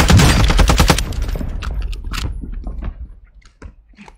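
Rapid gunfire in a multiplayer shooter game, a loud burst of automatic shots up front, then scattered single shots and impacts fading into quieter game noise.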